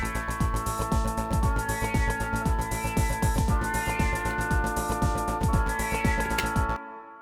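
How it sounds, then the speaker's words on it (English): A 909-style drum machine beat with a sustained synth pad and automated panning: punchy kicks and hi-hats in a steady fast groove over a held chord, loud and alone, cutting off abruptly at the end. "So I've got a 909 style drum machine and a pad that I want to add some movement to."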